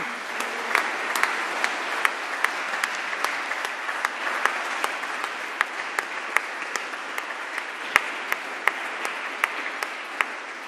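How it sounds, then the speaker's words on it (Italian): Congregation applause for children after an Italian confirmation mass in church fills the space with a sustained, even patter, punctuated by sharper individual claps standing out near the listener, with no voices over it. "Diamo un applauso a questi ragazzi."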